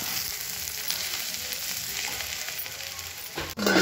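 Onions frying in a pan with salt, a dense steady sizzle close by, loud and continuous, with a brief clatter near the end and no talk.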